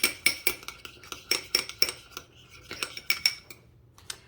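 A utensil mixes Vidalia onion dressing into a dish in a kitchen, making crisp, irregular metallic clinks and taps against the container, close up, in quick bursts with brief pauses and no talking.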